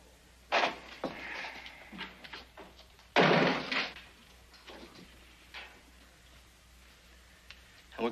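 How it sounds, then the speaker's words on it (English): A door is shut in an indoor Western scene, with a few knocks and bumps before a loud, close slam, followed by softer thuds and quiet room tone. "Shut the door."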